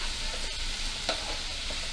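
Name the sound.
onion frying in tempering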